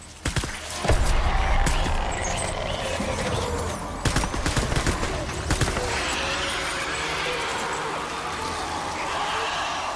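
Gunfire in Death Stranding combat, a dense, loud run of shots and impacts over a sustained noisy game mix, with a few sharper bursts standing out.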